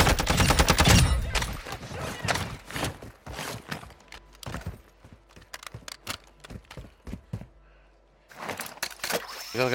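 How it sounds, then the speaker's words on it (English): Rapid bursts of gunfire crackle close by in DMZ, a loud volley at the start giving way to scattered sharp shots, then another flurry near the end. "There are shots nearby."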